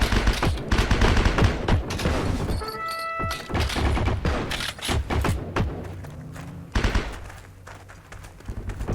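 Bursts of MG34 machine gun fire in a World War II combat video game, rapid repeated shots layered over a dense battlefield din of other gunfire and thuds, loud and close throughout.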